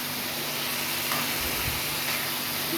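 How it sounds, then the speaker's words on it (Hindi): Goat liver pieces (kaleji) frying on a hot iron tawa for an Eid ul Adha dish, giving a steady broadband sizzle and hiss that holds close and even throughout with no voices. "इसके अंदर मैंने अभी बस थोड़ा सा कलेजी डालकर मैं फ्राई कर लूँ"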